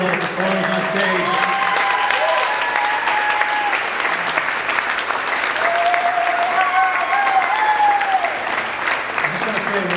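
An audience at a stage performance claps and cheers for the actors and performers, with steady, dense applause and scattered whoops throughout.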